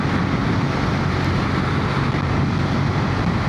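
A Ducati 821 Monster motorcycle engine on its standard exhaust drones loud and steady while riding, a continuous throaty roar mixed with wind rush.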